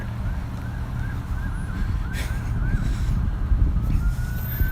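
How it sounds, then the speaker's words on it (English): An ambulance siren wails steadily in the distance, rising and falling over a low traffic rumble outside a COVID testing site. "that siren says that's an ambulance"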